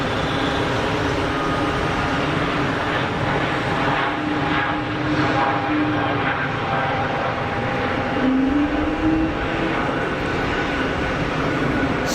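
An Airbus A220 jet departs Geneva Airport with a steady, broad engine roar, fairly distant and constant throughout with a gently shifting tone.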